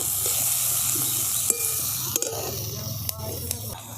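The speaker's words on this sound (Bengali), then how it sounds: "টমেটোটাকে দিয়েও ভালো করে ভাজা ভাজা করে নিচ্ছি" Chopped tomato frying with carrot and capsicum in a pan: a steady close sizzle with a few sharp taps and scrapes of a spatula spread through it.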